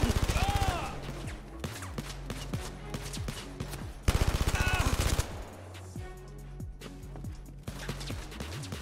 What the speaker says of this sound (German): Wer schießt denn da?